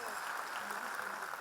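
Audience applause at a poetry evening for Hicham in Nazareth, a dense, steady wash of many hands clapping, moderately distant and continuous through the short moment.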